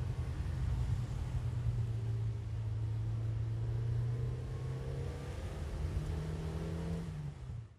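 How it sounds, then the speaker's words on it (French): A low, steady rumble of car traffic drifts from far away across the Goëlo valley in Ploufragan, Côtes d'Armor, one engine tone slowly rising then fading out, in an otherwise quiet setting. "On entend les premières voitures dans le lointain."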